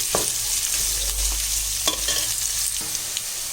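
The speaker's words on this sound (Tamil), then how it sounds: "இது நல்லா கொஞ்சம் பொன்முருகலாக கொஞ்சம் நல்லா வதங்கணும் இந்த வெங்காயம்" Onions sauté in oil for kuska biryani, a close, continuous bright sizzle with the scraping of a spoon stirring through the pan now and then.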